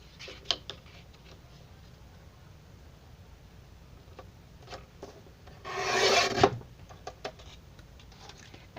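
Paper being trimmed along a straight edge for a fall scrapbook layout, with faint scattered rasps and taps before one louder, rough cutting stroke lasting about a second, close and quiet with no talking.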